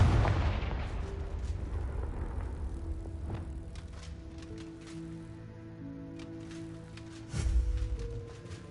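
A Confringo blasting curse goes off in a Harry Potter video game, opening with a loud, boomy explosion that slowly fades into rumbling debris and game ambience, followed by a second, smaller thud near the end.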